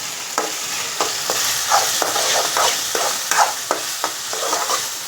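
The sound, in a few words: stirring soybean chunk curry in a pan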